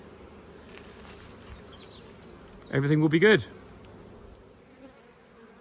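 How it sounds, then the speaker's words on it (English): Steady buzzing of flying honeybee drones around hives throughout, with a brief spoken phrase in the middle. "There is drones flying around now anyway."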